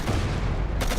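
A loud, booming tank gunshot from the game Codename: Panzer Phase One fills the moment, with a dense, saturated blast and a second crack near the end.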